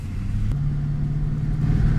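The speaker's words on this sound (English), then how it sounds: "So let's go take this for a drive." A car driving after a throttle body cleaning gives a steady low engine drone and road rumble from inside the cabin, with a faint tone rising slightly toward the end and no talking.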